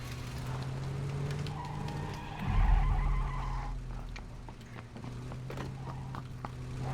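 A vehicle drives in PUBG, its steady engine drone running throughout, with a brief skid or rough surge in the middle and faint game noises scattered over the top.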